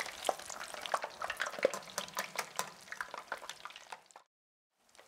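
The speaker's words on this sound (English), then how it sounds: "flip the tilapia carefully so that all sides are cooking evenly" Tilapia fillets fry in hot oil with a steady crackling sizzle and quick spatters close by, breaking off into silence for a moment near the end.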